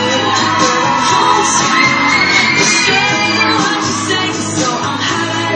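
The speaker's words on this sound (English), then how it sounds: "Let me hear you scream, boy." Riders on a Music Express amusement ride screaming and whooping over loud blaring ride music, a continuous noisy mix of crowd shouts and pounding beat at close range.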